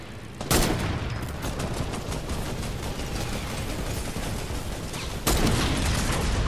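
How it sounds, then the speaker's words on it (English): Gunfire rattles through an online duo squads shooter match, a sustained burst of rapid shots with sharper louder blasts at the start and near the end, heard with no talking. "Are they shooting at you?"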